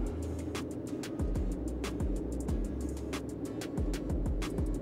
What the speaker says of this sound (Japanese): エンジンの音入ってると思うんですが、これぐらいな感じなんですよ。